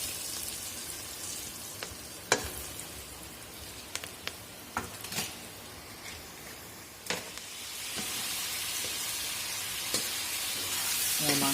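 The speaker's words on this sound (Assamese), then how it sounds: "পিঁয়াজখিনি এনেকৈ লৰাই দিছোঁ" Onions sizzle steadily in a hot pan for a broiler-meat meal cooked in a room, with sharp intermittent clicks and scrapes of a spatula stirring them, close and fairly loud, and the hiss swelling toward the end.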